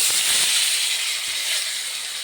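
Chicken frying in white oil in a frying pan, a loud steady sizzling hiss with no breaks, close up and alone.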